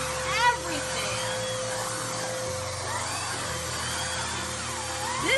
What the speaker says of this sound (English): Let's clip on the turbo brush. Whoa! Look at the turbo brush go!